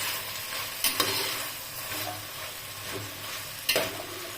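Vegetables for a vegetable pulao are stirred in a pan, giving a steady frying hiss with a few sharp scraping clinks of the spoon against the metal. No one speaks.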